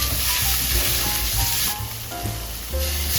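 Sweet carrot and shiitake mushrooms stir-fried in a hot wok with a little oil and salt: a loud, steady sizzle fills the whole stretch, with scraping and tossing noises rising and falling as the food is turned. No one speaks.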